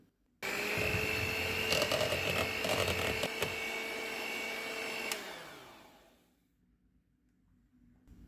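An electric mixer whirs steadily through a pistachio ice cream mixture of condensed milk and green food colouring, running loud and alone for about five seconds before winding down and stopping.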